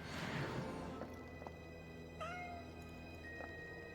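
A cat in the video game Goblin Cleanup gives a drawn-out meow that rises then falls, set against a steady hum of game ambience, with a few faint clicks around it.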